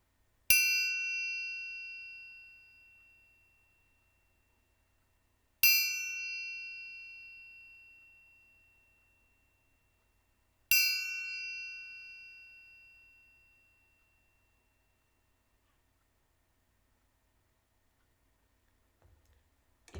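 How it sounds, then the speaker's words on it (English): A meditation chime is struck three times, evenly spaced about five seconds apart, each bright metallic ring decaying slowly to silence in a quiet room. "I'm also going to ring a chime 3 times"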